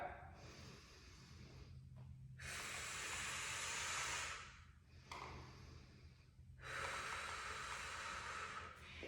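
Heavy breaths during a bear rockback pull exercise, with two long loud hissing exhales and softer inhales between them, close and rhythmic.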